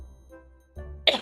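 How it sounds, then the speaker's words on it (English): A single sharp cough comes near the end after near silence, short and abrupt. "A cough out of nowhere."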